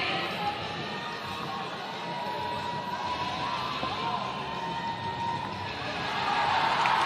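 A CrossFit Games crowd roars steadily during a heavy barbell squat, a continuous wash of cheering that swells louder near the end.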